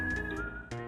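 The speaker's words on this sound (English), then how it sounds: "They really pulled off the whistling sound well" Whistled melody from the soundtrack of the Famicom game Ganpuru: Gunman's Proof, a steady sustained tone that glides between notes, loud and clear over a backing of chiptune music.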